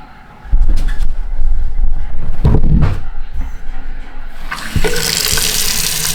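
Water gushes from the tap of a newly plumbed utility sink after a brief quiet start, a loud close splashing flow that shifts and surges, then brightens into a hissier stream near the end.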